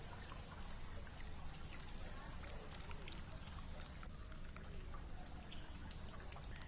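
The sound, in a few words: flooding Phalguni river water in heavy rain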